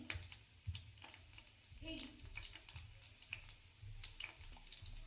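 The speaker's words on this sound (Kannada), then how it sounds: "ಇದು ಸ್ವಲ್ಪ ಫ್ರೈ ಆಗಲಿ." Chopped garlic frying in a pan for fried rice gives a faint, soft crackle and sizzle with occasional sharper pops and stirring clinks, quiet and close.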